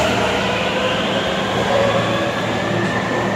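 At a railway station, a train produces a continuous, loud, rumbling roar with a steady mechanical hum, heard close by without pauses.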